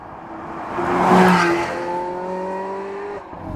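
A Porsche 981 Boxster Spyder's engine revs up with a rising rasp, then holds a steady, resonant drone before easing off, heard fairly close and alone.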